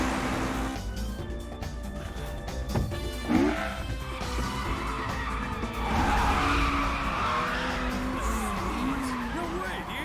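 A car from Initial D corners at high speed, with tires squealing and skidding over a revving engine, loud and close, while people talk over the noise.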